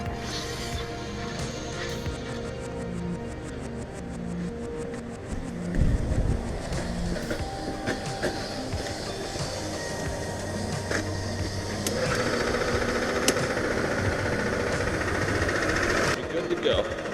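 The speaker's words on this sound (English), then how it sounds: "So we have this great heated power washer. Runs on diesel. Thing's awesome. So we'll start with that. Get that fired up." A diesel-fired heated power washer starts up and runs with a steady mechanical drone, rising in intensity partway through and continuing at a constant level, with a rhythmic ticking early on and intermittent clanks.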